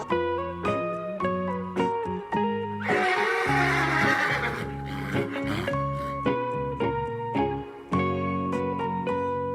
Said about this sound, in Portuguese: Esse é o meu cavalo bravo.